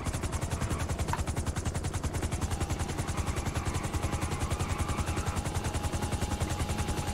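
Helicopter in a video game, a loud, steady rapid rotor chop that continues without a break, with no voices.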